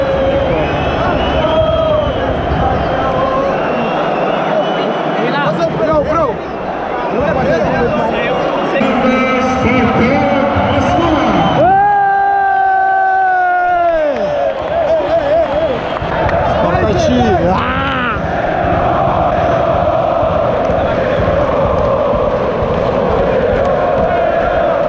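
Spartak football fans cheering and chanting in a loud, dense crowd roar during the Super Cup against Lokomotiv, with sustained voices rising and falling and a brief whistle-like tone, close players' voices talking over it.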